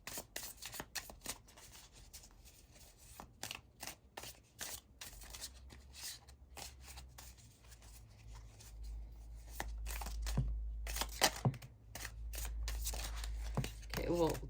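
Cards from a Light Seers mini tarot deck shuffled by hand, making quick, close riffling and flicking sounds in rapid bursts, with some spilling and handling noise, and speech at times.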